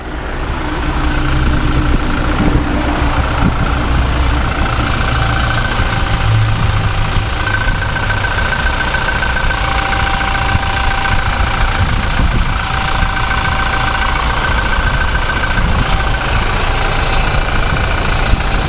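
A 2019 Toyota Hilux Revo 2.4 Double Cab Prerunner pickup engine idles steadily up close, a loud, even rumble with a faint mechanical ticking running through it.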